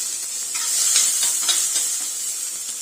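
Onions and green chillies sauté in a pan for cluster bean stir fry, giving a steady bright sizzle with soft stirring scrapes running throughout, fairly loud and close.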